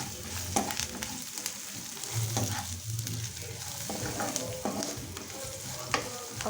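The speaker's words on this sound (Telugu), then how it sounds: "ఒక 2 మినిట్స్ ఇలా కలుపుకొని" Curry leaves and turmeric frying in a pan for uggani, with close scraping and stirring strokes over a steady soft sizzle that continues throughout, no talking.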